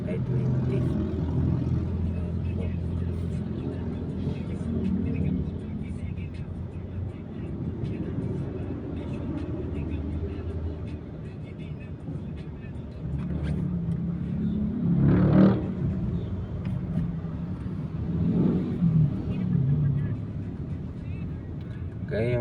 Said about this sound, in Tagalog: Kaya grabe po ngayon ang traffic po dito sa C5. Heavy traffic po ngayon.